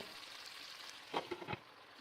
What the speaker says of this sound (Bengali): একই রকমভাবে 2-3 মিনিট হাই ফ্লেমে গোল্ডেন ব্রাউন করে ফ্রাই করছি।